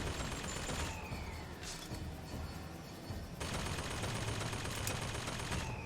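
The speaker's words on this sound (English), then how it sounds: "Where are you shooting at?" Video game gunfire in Bioshock Infinite, a dense run of rapid shots that fills the whole stretch, easing off briefly in the middle before heavy firing resumes, loud and close with no voices over it.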